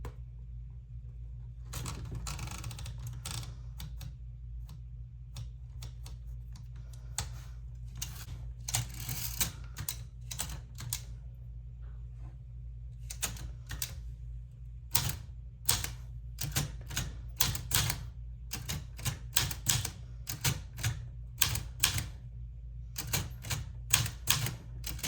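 An Olivetti Lettera 32 manual typewriter being typed on, with crisp, close key strikes in irregular bursts that grow denser and louder toward the end, over a steady low hum.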